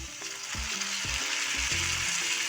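Tomatoes and finely chopped green chili hitting hot oil with frying onions for street-style pav bhaji, a steady close sizzle with stirring knocks of a spatula against the pan, no talking.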